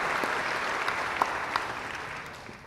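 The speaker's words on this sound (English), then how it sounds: "Give him another round of applause." Audience applause fills a Senate Energy and Natural Resources Committee hearing room on the proposed Bears Ears National Monument, with steady clapping throughout and a few sharper claps standing out.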